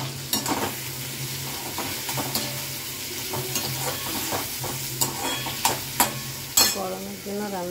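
Potatoes tumbling into a pan for a fish curry, a steady sizzle and hiss of frying with scraping stirs and a few sharp clinks of a spoon against the pan, close and moderately loud.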